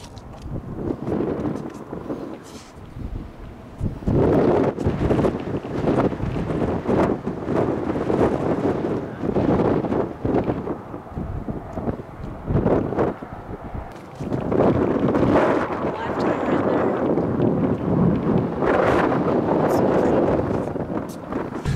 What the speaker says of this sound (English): There were some gusts out there that were crazy